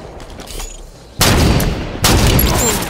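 Video game battle gunfire while a tower is under fire: two sudden loud bursts of heavy shots and booms, each lasting under a second, following a quieter stretch of softer distant firing.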